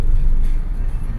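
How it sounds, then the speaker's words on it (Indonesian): Car in an official's convoy passing by on a road, a loud low rumble close at first that fades slightly as it moves on, brief and alone. "Mobil pejabat."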